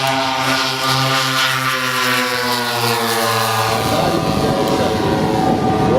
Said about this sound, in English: What kind of plane just went by that close to the ground?